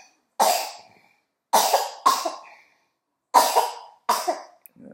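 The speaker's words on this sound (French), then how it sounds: "Vous entendez comment elle tousse là." A baby coughs in five separate bursts, sharp and close, with quiet gaps between the harsh, raspy coughs and a small throaty sound at the end.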